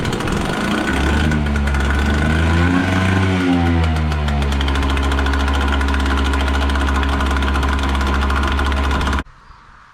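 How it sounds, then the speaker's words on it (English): An outboard boat motor that has sat unused for about two years runs loudly and close, a steady droning hum with a brief rise and dip in pitch before settling, then cuts off abruptly near the end. "My word, how good are these motors? I don't reckon that has started in 2 years."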